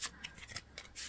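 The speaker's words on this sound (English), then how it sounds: "as I'm shuffling out these cards" Tarot cards being shuffled by hand, a quiet series of soft papery riffles and brushing swipes in short bursts, close and unaccompanied by voices.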